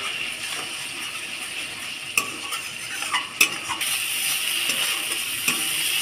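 Spice paste (masala) is sautéed in a pan, with a steady sizzle, scraping stirs and a few sharp clinks of a utensil against the metal, close and moderately loud, with no talk.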